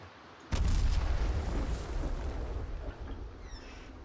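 A cannon fires a cannonball in the video game Out of Reach: Treasure Royale. It gives one sudden loud boom followed by a rumbling decay that fades over a few seconds.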